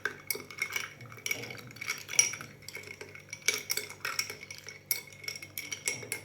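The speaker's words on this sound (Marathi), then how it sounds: "व्यवस्थित आपल्याला हे ढवळून घ्यायचं आहे" A spoon stirs cumin sharbat premix in a glass, producing quick, continuous metallic clinks and scrapes against the glass at close range.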